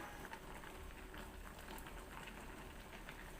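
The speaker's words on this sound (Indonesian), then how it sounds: "Kalau merebus daun pepaya, sebaiknya nggak perlu ditutup ya, supaya nanti warnanya tetap hijau." Papaya leaves boil uncovered in a pot, a steady faint bubbling and simmering hiss that runs evenly without pause.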